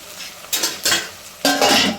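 Pan work while onions roast in foamy coconut oil for a home-cooked pulao: a few distinct clinks and scrapes of a utensil against the pan, spaced apart with quiet between them, no talk.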